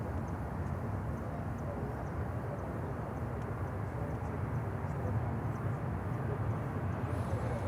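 An airliner landing on runway 9 at Miami airport makes a broad, steady rumble that stays loud and even throughout, with no talk over it.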